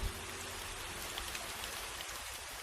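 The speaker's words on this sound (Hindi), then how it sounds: "मूसलाधार बारिश हो रही थी" Heavy, steady rain pours down in a dense, continuous hiss with faint drips, loud and close throughout with no voices.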